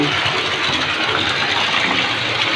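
Rainwater runs off a house roof into a backyard tilapia fishpond, a loud, steady gushing pour that holds constant throughout with no voices over it.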